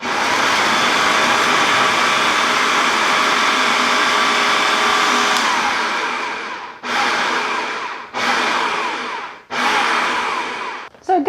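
A blender grinds chickpeas, garlic cloves, salt, pepper, dill, paprika, cumin and fresh lemon juice for homemade hummus: a loud, steady whir for several seconds, then three short pulses with brief stops between them.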